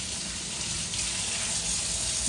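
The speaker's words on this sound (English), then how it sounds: "So I'm gonna put some water on." Water runs steadily from a kitchen tap in a broad, even hiss that stays close and constant throughout, with no voices.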